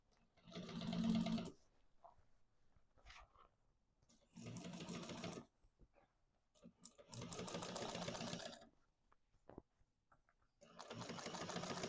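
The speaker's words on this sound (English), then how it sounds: "We're going to top stitch that seam in place through the bottom." A sewing machine top stitching a seam on a large duffel bag, running in four separate bursts of steady rapid stitching with quiet pauses between them and a few faint handling knocks in the gaps.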